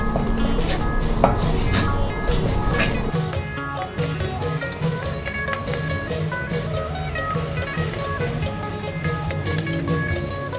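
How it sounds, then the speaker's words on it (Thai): A knife cuts pork into thin, small pieces on a board in a home kitchen while preparing a Thai curry. Rapid, close, repeated chopping knocks and scraping run throughout at a busy, uneven rhythm. "ก็หั่นเนื้อหมูให้เป็นชิ้นเล็กๆหน่อย บางๆหน่อยนะคะ"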